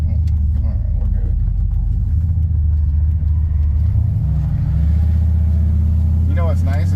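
The turbo farm truck's engine rumbles deep and steady through a burnout, heard from the cab, with the low drone shifting slightly midway and a short voice near the end.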